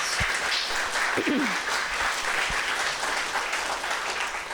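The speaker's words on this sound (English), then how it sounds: "So let's give them a round of applause." Loud, sustained applause from a crowd at a recreation center opening, with steady clapping that carries on without pause for the whole stretch.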